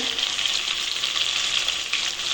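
Onions, bay leaf and panch phoron fry in a pan with a steady, dense sizzle that stays bright and even throughout, with no voices over it.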